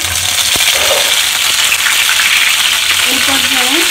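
Whole spices, bay leaf, cinnamon, cardamom and clove, fry in oil for a beef liver bhuna, giving a loud, constant, close sizzle that runs unbroken throughout.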